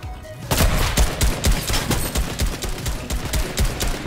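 Rapid bursts of gunfire from the Fortnite video game, dense and loud, with repeated sharp shots through most of the clip and no talk.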